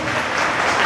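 Applause from an audience at a music festival greeting young children on stage, a dense, steady wash of clapping throughout the short moment with no voices over it.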